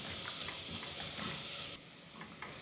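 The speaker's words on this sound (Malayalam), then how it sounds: "ഇനി ഇതൊന്ന് നന്നായിട്ട് മിക്സ് ചെയ്തെടുക്കാം." Chopped tomato and yogurt are stirred into a sizzling chicken curry gravy in a pressure cooker, with steady frying hiss and soft scraping strokes of the spoon, the sizzle dropping quieter partway through.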